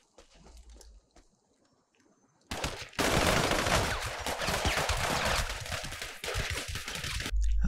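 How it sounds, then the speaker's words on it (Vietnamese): Dense automatic gunfire from a zombie shootout in GTA 5 erupts after a quiet start and roars continuously and loud to the end, with brief faint sounds before it. "nó mà bắn zombie nó bắn là bắn cho nát cho chết thôi. Thì bắn rất là sung các bạn."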